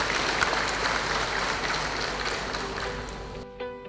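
Enthusiastic applause fills a graduation ceremony for the Poltekkes Kemenkes Riau health polytechnic in 2022, with many hands clapping steadily before it cuts off abruptly near the end.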